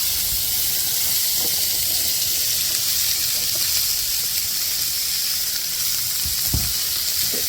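Diced onions and green peppers sautéing on a hot griddle give off a loud, continuous hissing sizzle, close up, with occasional soft scraping and tapping of a spatula and no voices.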